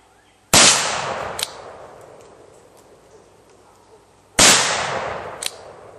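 Two loud, sharp reports from a Ruger Old Army black powder revolver being test fired outdoors, spaced about four seconds apart, each with a long decaying echo and a faint click afterward; no talking.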